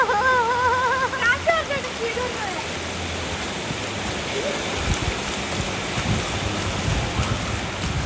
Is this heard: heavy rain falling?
yes